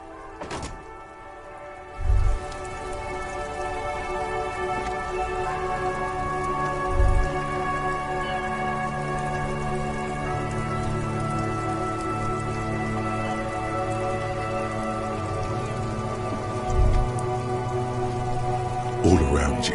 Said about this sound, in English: All around you, rain falls on the great city of Revachol.